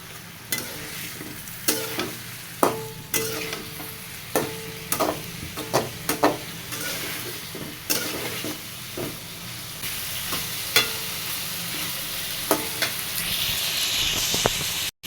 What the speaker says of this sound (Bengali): হালকা পরিমাণে একটু জল দিয়ে ভালো মতো কষায় নিব